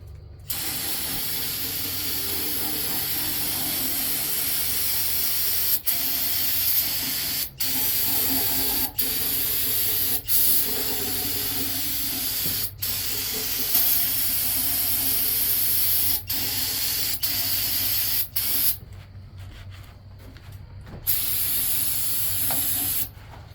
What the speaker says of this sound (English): I'm going to take us a can of brake clean, spray all this off.